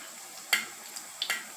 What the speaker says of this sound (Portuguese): aos poucos, né, vai fritando aí, ó, os nossos bolinhos